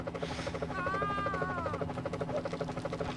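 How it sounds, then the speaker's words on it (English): An attacking helicopter in GTA: Chinatown Wars gives a continuous, fast rotor chop, a steady pulsing thrum with a brief whining tone partway through, with no talk over it. "Take out the attacking helicopter."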